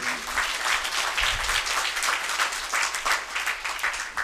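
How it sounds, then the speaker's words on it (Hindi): An assembled congregation bursts into steady applause, dense continuous clapping from many hands that holds at an even level throughout. "तालियां बजा दीजिए।"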